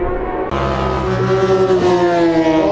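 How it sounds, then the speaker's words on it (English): Racing motorcycles crest a rise and lift into wheelies on a race track, engines loud and close in a continuous high-revving roar with rising pitch after a sharp onset. "Just as they come over the top, they're carrying so much power, they pull a wheelie."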